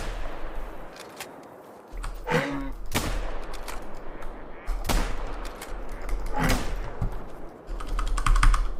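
Video game gunfire, several sharp separate shots with gaps between them over faint background game noise, then a quick rattling burst near the end.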